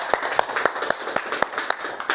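A classroom group claps together during a lesson, a short burst of distinct, fairly rhythmic hand claps about four per second, near and moderately loud.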